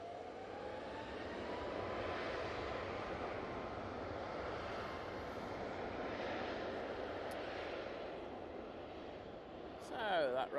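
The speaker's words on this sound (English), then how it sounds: "that Ryanair Max 8 is off to Murcia" Ryanair Boeing 737 Max 8 jet departing Manchester Airport, a broad steady engine roar held at moderate distance for the whole stretch, with a brief louder rattle near the end.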